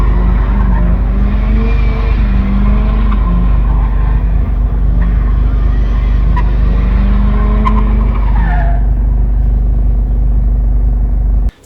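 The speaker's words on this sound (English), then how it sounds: "That exhaust is pretty loud" A cammed 2.5-litre NC Miata with its muffler deleted roars loudly and continuously, its raspy exhaust droning close by as tyres squeal through a long skid before the sound cuts off abruptly.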